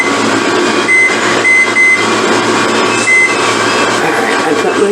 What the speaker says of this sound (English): I put my timer on